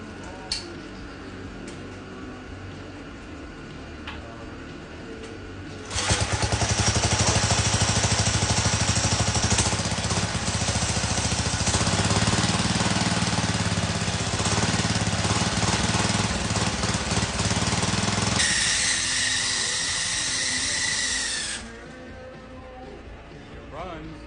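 A vintage Golden Pinto minibike, over fifty years old, has its small engine started for the first time: faint ticking at first, then a loud, buzzy, steady running roar for about fifteen seconds before it drops back to a quieter background.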